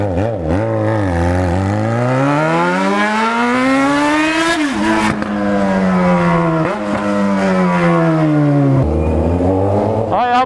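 A pink-painted motorcycle being ridden nearby, its engine loud and steady, pitch climbing and dropping with revs and shifts, with no talk over it.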